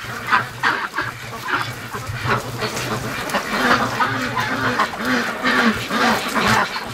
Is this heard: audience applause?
no